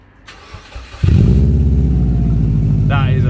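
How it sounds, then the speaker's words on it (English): Subaru car engine cranking and catching, then settling into a loud, steady running note close by after about a second of starter noise, with a brief voice near the end. "So let's hear this thing run."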